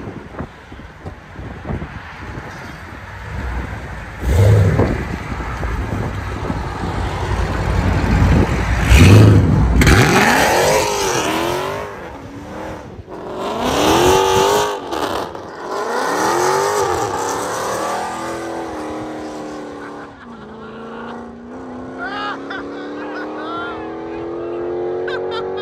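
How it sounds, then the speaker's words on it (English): A 2019 Dodge Charger Scat Pack with the 6.4L Hemi V8 and a loud aftermarket exhaust revs hard in several bursts, engine rising and falling with wind noise on the microphone and some talk mixed in. "2019 Dodge Charger"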